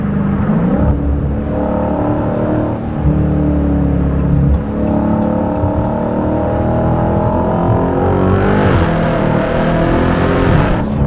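A 2023 Dodge Challenger Hellcat Jailbreak's supercharged engine at 717 horsepower drones loudly and continuously from inside the car, pitch rising and falling as it accelerates, climbing sharply near the end.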